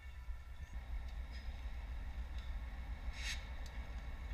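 A train rolls past at night as a distant, steady low rumble with faint clicks and a brief higher squeal near the end. No one speaks.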